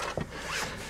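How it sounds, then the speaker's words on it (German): A short scraping rub of a zipper against a car door, close by, with a brief brushing sweep following it. "das war nur der Reißverschluss, der hier an der Tür geschrubbt hat"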